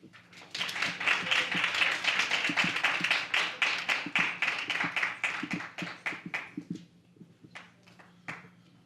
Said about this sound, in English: Can we give another round of applause for Leroy Bean?